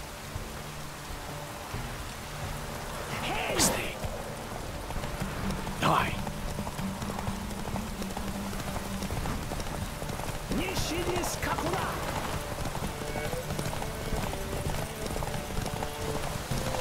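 Hooves clop steadily as racing Ofieri stallions gallop in The Witcher 3: Hearts of Stone, with falling rain and occasional snorts underneath and a voice speaking at times.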